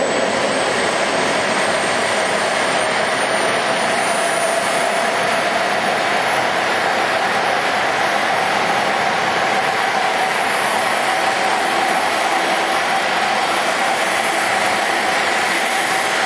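Steady high-pitched turbine whine with a constant roaring drone from a large jet-turbine-powered model helicopter flying at a model show, loud and continuous throughout, no talking.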